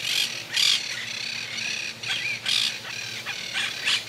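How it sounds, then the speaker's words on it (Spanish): Birds in a pampas grass habitat in Santa Fe, Argentina, giving repeated loud squawking calls in bursts, close by and clear over a quiet background. "En este ambiente andan, se alimentan y hacen sus nidos algunas aves"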